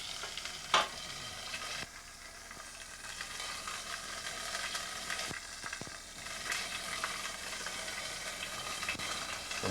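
Food browning in a frying pan gives a steady, soft sizzle and hiss, with a few sharp clicks and a scrape near the start, heard close and without speech.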